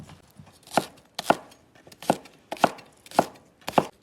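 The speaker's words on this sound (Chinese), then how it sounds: "切点葱姜" A knife chops scallion and ginger on a board with six sharp, evenly spaced strikes. The cuts are close and loud, with quiet between them and no talking.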